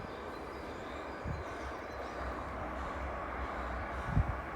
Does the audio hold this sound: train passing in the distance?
yes